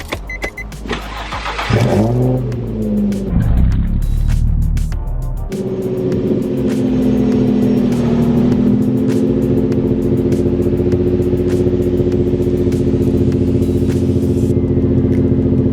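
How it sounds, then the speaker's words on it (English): A Nissan 350Z engine cold starts with a cranking churn, catches and settles into a loud, steady, close idle that runs unbroken to the end, with no voices. "let's get a cold start"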